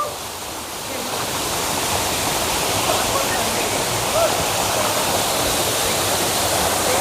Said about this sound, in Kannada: ನೀರಲ್ಲಿ ಬೀಳ್ತಾ ಇದೆ ಫಾಲ್ಸ್